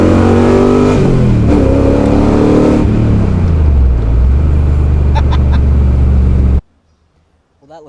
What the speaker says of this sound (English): I forgot how much fun this car is to drive.